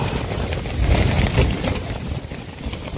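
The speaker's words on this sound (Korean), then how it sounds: "무슨 바람이 이렇게 세?" Strong gusts blow across Gulupdo island, roaring in broad, unsteady surges that buffet the microphone close up, with no voices in this stretch.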